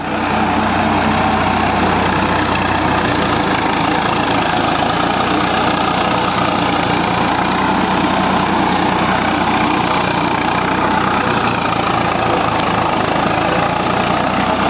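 A Swaraj 744 FE tractor engine runs close by with a constant, loud, heavy low rumble that holds steady without pause, with no voices.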